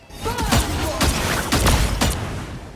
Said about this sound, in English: it's going to make a wave of explosions 3 times.